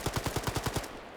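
A rapid string of about eight evenly spaced gunshots from a marksman rifle in a PvP video game, loud and close, firing in a steady rhythm before fading into a short tail.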